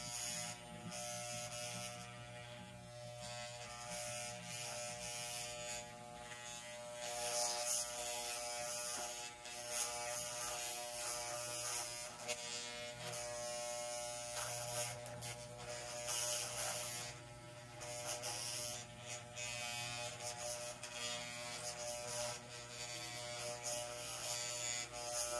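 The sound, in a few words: electric hair clippers cutting hair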